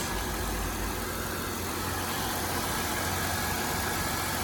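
A Toyota Avalon's 3800 engine idles with a steady, loud rumble close up, an even continuous drone with no talking.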